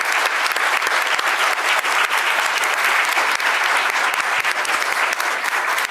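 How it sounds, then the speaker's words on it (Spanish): A seated audience at a panel discussion claps for the panelists, a dense, steady round of applause that holds evenly from start to finish with no voices on top. "Un aplauso para todas y todos los panelistas."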